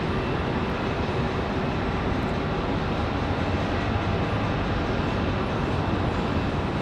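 Airbus A321 arriving from Charlotte at Raleigh-Durham airport, a loud steady broadband jet roar that fills the whole stretch without letting up, no talk over it.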